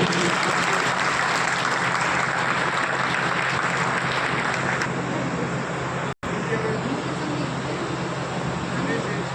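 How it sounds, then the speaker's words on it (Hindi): At an honours ceremony, a crowd claps loudly to welcome a guest. The applause is thick and continuous, with a brief dropout partway through and some voices mixed in. "आप लोग जोरदार तालियां बजाइए"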